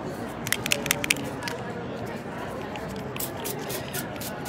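Several quick spray-bottle spritzes of ink early on, short hissy bursts, followed by more scattered sprays over a steady low background rumble.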